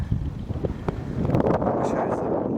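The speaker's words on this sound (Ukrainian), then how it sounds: "Дуже сильний вітер." Strong wind buffeting the microphone in rough gusts, loud rumbling bursts for a couple of seconds.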